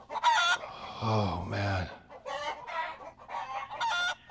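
Chickens clucking and a rooster crowing in a hen house sound effect, several loud close calls in quick succession, with someone briefly speaking.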